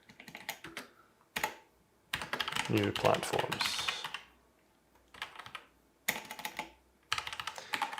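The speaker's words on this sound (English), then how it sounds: "Fingers are getting tired after all the typing" Fast computer keyboard typing while coding in C#, coming in bursts of clattering keystrokes separated by pauses, with someone speaking briefly between the runs.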